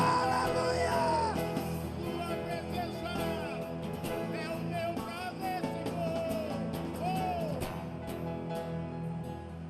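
Church congregation shouting and cheering during a sermon, a dense, loud, continuous wall of yelling voices with rising whoops over a full, sustained backdrop.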